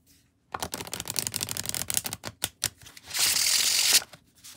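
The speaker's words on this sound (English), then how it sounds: "And let me show you how it shuffles." An eco cardstock plant oracle deck gets shuffled up close, with rapid papery riffling and snapping card flicks in quick bursts, ending in a longer smooth, hissing cascade of cards sliding together, with no talking.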